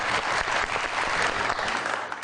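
Studio audience applauding steadily on a television talk show set, dense continuous clapping at full strength throughout with no voices over it.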